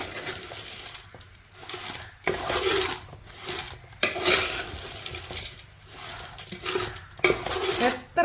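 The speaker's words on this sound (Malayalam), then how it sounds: "ഇത് ഈ ചൂടിന് തന്നെ ഇത് ഇളക്കി ഇളക്കി യോജിപ്പിച്ചെടുക്കണം കേട്ടോ" Flattened rice and jaggery are stirred in a hot pan, giving repeated bursts of scraping and clinking from the spoon against the metal, separated by short pauses.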